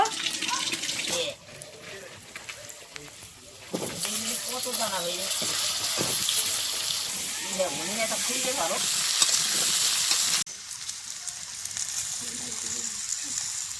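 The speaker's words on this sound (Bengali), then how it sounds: "এখন আলুগুলো কষাবো" Potatoes with cumin sautéing in a pan, a loud hissing sizzle with a sharp jump in level as the food goes in, while someone talks over it at intervals.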